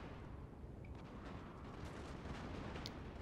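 Cannon and musket volleys in the video game Napoleon Total War make a dense, continuous rumble of distant gunfire and artillery booms under steady battle noise, with no voices.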